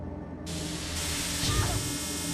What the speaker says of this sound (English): The pepper spray did nothing!